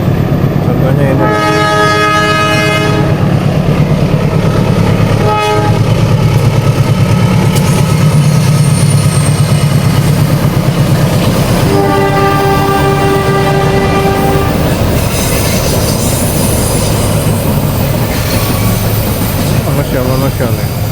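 A train rolls loudly across the Cirahong bridge, its horn sounding in two long harmonic blasts over continuous rumbling wheel and engine noise, with voices talking faintly nearby.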